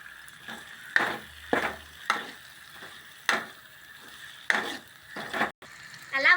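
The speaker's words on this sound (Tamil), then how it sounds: "கொஞ்சம் கல்லுப்பு போட்டு நல்லா வதக்கி விட்டுக்கலாம்" Onions with rock salt stirred and frying in a pan, with repeated scraping strokes over a steady sizzle, close and moderately loud, no talking.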